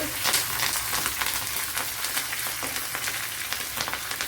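Fresh curry leaves are dropped into a hot pan with green chillies for a Kerala shrimp curry. They set off a steady, crackling sizzle that stays close and even throughout, with no voices.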